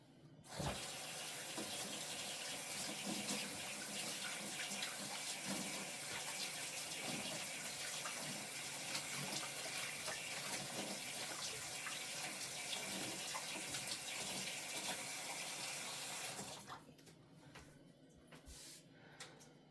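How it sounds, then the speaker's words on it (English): A hand is washed under a steadily running kitchen tap, the water pouring and splashing for about sixteen seconds before it is turned off, with only faint low dripping and quiet room noise after. "So I'm gonna take my dirty hand, I'm gonna wash it."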